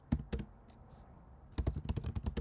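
Keystrokes on a computer keyboard, two quick taps, a short pause, then a rapid run of close, crisp clicks as someone types a command.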